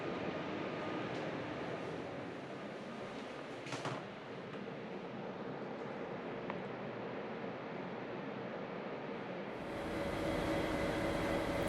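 A diesel-hauled passenger train of N-type carriages behind an N-class diesel locomotive rumbles steadily past for several seconds, a constant broad roar with faint squeals, growing a little louder and harsher near the end.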